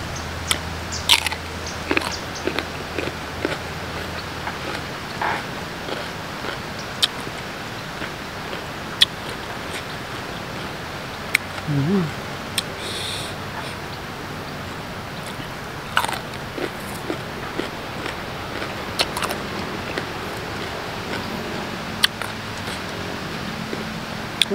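Someone bites and chews sour mango dipped in fermented fish sauce with onion, giving crisp, irregular crunches and wet chewing close to the mic over a long stretch, with occasional louder snaps.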